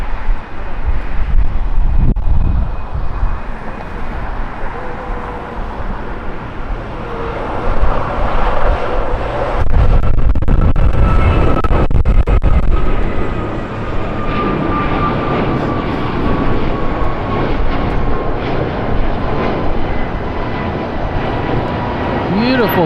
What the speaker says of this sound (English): Beautiful takeoff there by American, fast and steep.